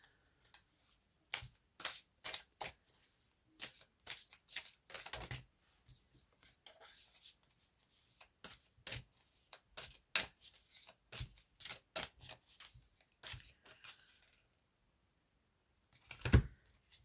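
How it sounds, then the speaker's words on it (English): Tarot cards being shuffled by hand, a run of quick papery riffles and flicks in short bursts with brief pauses, close and fairly soft, no talking. "I'm just going to go for one more card."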